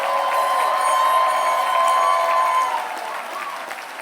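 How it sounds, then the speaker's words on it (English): Sustained applause from a large audience for graduates at Harvard Medical School and Harvard School of Dental Medicine Class Day, a dense steady clapping that thins slightly near the end while a voice carries over it. "How about one more round of applause for all the graduates"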